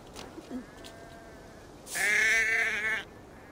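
A single drawn-out sheep bleat in the game Assassin's Creed Valhalla rings out loud and clear for about a second, following a few faint soft noises in a quiet setting.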